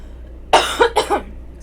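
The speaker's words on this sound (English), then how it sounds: "I am getting my cough back, and I'm not a fan." A person coughs twice in quick succession, close and clear against a quiet room.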